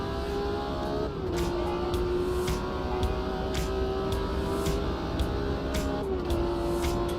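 BMW M1 racing around Mount Panorama in a racing video game, its engine holding a steady, smooth high drone with brief drops at gear changes, close and continuous.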